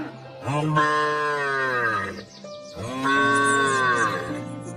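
Cartoon cow or bullock lowing loudly in two long, drawn-out moos separated by a brief pause, close and clear with no talk over it.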